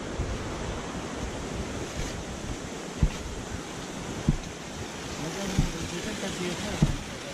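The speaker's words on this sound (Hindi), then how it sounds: "इस जगह से नीचे पानी जा रहा है" A steady, loud rush of flowing water fills the scene, with wind buffeting the microphone and a few dull thumps.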